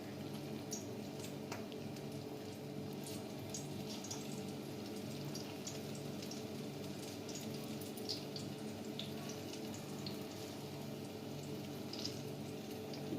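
Malabar spinach pakora batter sizzles in hot oil, a steady low bubbling fry with scattered small crackles and pops, held at an even level throughout with no talking.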